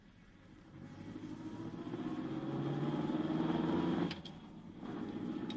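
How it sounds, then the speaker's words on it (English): A small car's engine hums steadily while driving, building gently to a sustained drone before easing off near the end, with a couple of faint clicks, staged as a radio-drama sound effect with no voices over it. "this is quite a nice little car"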